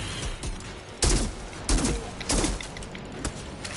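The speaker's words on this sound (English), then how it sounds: "let's pull out the sniper right now" Sniper rifle fire in the video game Outriders, with several loud sharp shots spaced unevenly over a busy background of game noise and mechanical clatter.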